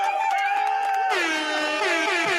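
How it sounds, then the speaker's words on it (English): An air horn sound effect blares loud and continuous on a sports talk show about the New York Jets, a steady sustained blast that shifts pitch partway through and runs the whole clip. "Hit the air horn, please."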